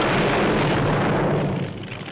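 A film explosion from First Blood, set off with a rocket launcher, erupts as one loud, dense roar that rumbles on for about two seconds before starting to fade.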